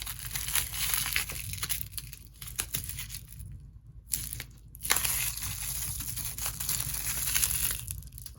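A plastic bag is crumpled by hand up close, a dense run of crinkling and crackling that pauses briefly midway, then resumes at a fairly quiet level.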